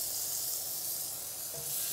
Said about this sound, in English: The sizzling noise.